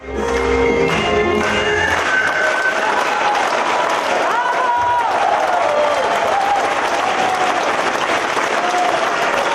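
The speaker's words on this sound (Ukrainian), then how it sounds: "Їхня музична композиція викликала в залі шквал оплесків" A concert hall audience breaks into a loud, sustained storm of applause after a children's folk dance ensemble performs, with crowd noise underneath and no let-up.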